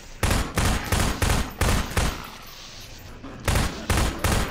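Bursts of automatic gunfire in Half-Life 2, loud and close, coming in rapid repeated volleys with a short pause in the middle before firing resumes.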